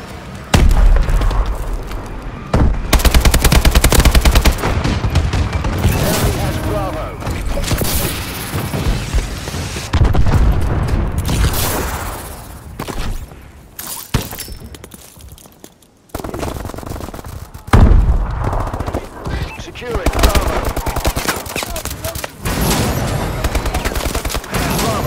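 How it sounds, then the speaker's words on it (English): Video game battle audio during a friendly bombing run over a capture point: dense bursts of machine-gun fire and booming explosions crowd together almost without a break, loud and close, with a few brief lulls. "Friendly bombing run clearing away."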